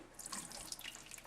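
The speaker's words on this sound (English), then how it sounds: "we need to strain them into the sink" Tap water runs steadily into a kitchen sink while cooked tapioca pearls are strained, a close, continuous splashing rush with no voices.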